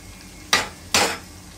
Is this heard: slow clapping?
no